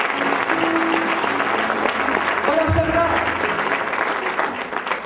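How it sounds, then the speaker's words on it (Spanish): A church congregation claps their hands for the Lord during a sermon, a steady wash of many hands clapping throughout, with voices and a few brief tones mixed in. "Dele palmas al Señor."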